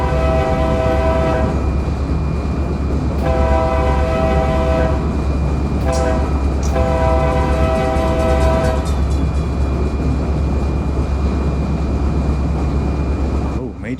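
A Union Pacific freight train of about six cars running in Train Simulator on the Fresno South route, with a loud, steady low engine rumble and repeated long horn blasts sounding in several bursts.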